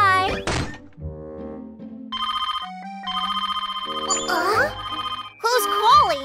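Cartoon telephone ringing in a kids' safety cartoon, a bright electronic ringtone in repeated bursts, loud and close, mixed with thunks and children's voices.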